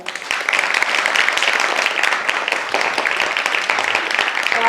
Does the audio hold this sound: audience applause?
yes